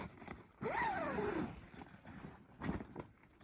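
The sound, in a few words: tent zipper opening and closing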